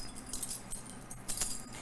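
A bunch of keys jangles in a steady run of bright metallic clinks, close and moderately loud, with no talking.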